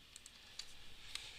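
A few soft, faint clicks of keys being typed on a computer keyboard, spaced irregularly over a quiet room hiss.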